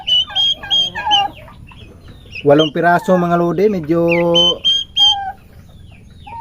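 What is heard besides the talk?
domestic turkeys making noise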